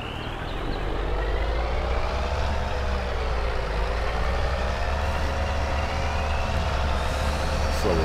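A truck engine drones steadily in Farming Simulator 22, with a rising and falling tonal whine over a loud, continuous low rumble.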